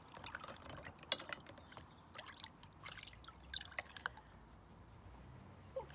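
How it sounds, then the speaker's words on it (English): Water is poured into a partly filled jug, giving a faint, steady trickle with scattered light drips and splashes, with no voices. "I'm going to put more water in it."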